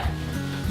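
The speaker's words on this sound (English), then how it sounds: "And give them all a good stir." Almond butter, coconut oil and maple syrup being stirred together for oat cookies, a brief close scraping, sticky rub of the spoon through the thick mixture.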